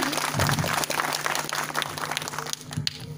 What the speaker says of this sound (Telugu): గట్టిగా ఒకసారి అందరూ చప్పట్లు కొట్టండి